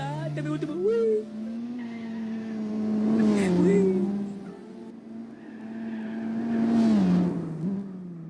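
Honda City Turbo II racing in Gran Turismo 4, the engine droning steadily and rising and falling with revs and tire squeal, a voice talking over it throughout.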